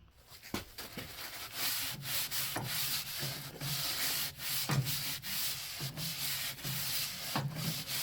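A shop cloth rubs grease off the parts of an Ariens Deluxe 24 snowblower, making close, repeated scratchy rubbing strokes with occasional knocks and no speech.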